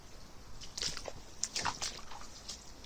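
Floodwater pools and flows around a back yard in a small Japanese mountain area after heavy rain, making faint, intermittent sloshes and splashes close by.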